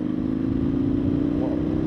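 An Indian FTR1200 S Race Replica motorcycle engine under way, a loud, steady, close mechanical drone with a continuous low throb and no voices.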